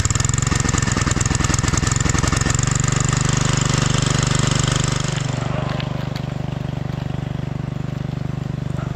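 A farm engine pumps water on a Konkan vegetable farm, a loud, close, continuous mechanical drone with a rapid chugging pulse that eases slightly in level partway through and keeps running steadily.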